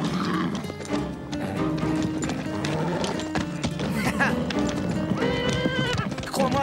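Horses in a dramatic scene clip-clop and whinny against a dense backdrop of music and voices, the hoofbeats and neighs mixed in throughout rather than standing alone.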